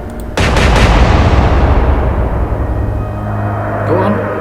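Naval guns fire in the Atlantic Fleet game: one sharp loud report bursts open, then a long booming rumble fades slowly beneath it.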